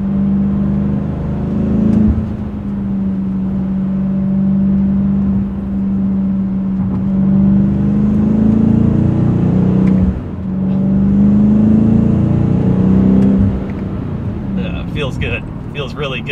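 A BMW M5 CS accelerates hard from inside the cabin, the engine rising in pitch through several gear shifts with a loud, steady drone and brief drops between pulls.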